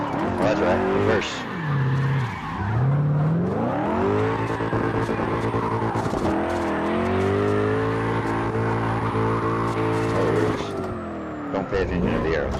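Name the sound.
drift car engine and tire skidding in video game CarX Drift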